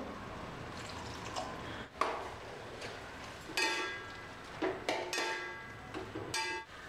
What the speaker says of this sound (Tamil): தண்ணி கொஞ்சம் ஊற்றிக்குவோம்